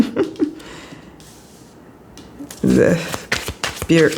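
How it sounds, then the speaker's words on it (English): Oracle cards are shuffled by hand during a reading, with soft papery riffles and bursts that come in short irregular clusters near the end, after quieter stretches and brief talk. "I'm just shuffling to see if there's any details."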